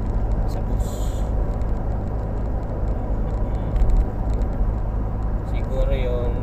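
Continuous low rumble and engine drone inside a moving bus, with road traffic noise coming in from outside, steady and fairly loud throughout, a brief hiss near the end, and a voice talking faintly in the background.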